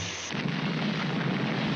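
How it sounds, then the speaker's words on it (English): Cartoon explosion from the Underdog animated series: a sudden broadband boom that stays as a loud, dense rumbling roar for nearly two seconds. "That explosion really smashed you up."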